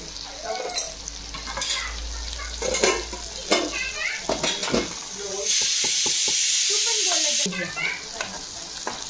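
Spice paste with turmeric and red chili is stirred in a pan for fish curry, with irregular scraping and clacking of a spoon and a loud burst of hissing sizzle in the middle.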